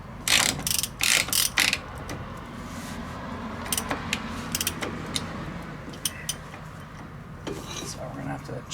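Dana 44 straight-axle wheel bearing on a Cummins truck being spun and tightened, giving a few clustered ratchet clicks early on, then sparse metallic ticks and scrapes over a steady low shop hum.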